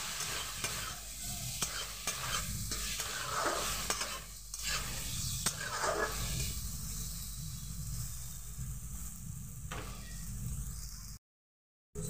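Spice paste and mustard paste fry in a pan with a steady close sizzle, broken by the scrape of stirring, before cutting to silence at the end.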